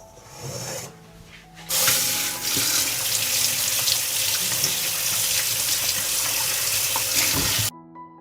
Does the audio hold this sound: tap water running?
yes